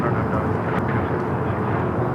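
A jet aircraft rumbles on runway 25 right at Los Angeles International Airport, a steady broad roar throughout with faint tower radio chatter over it.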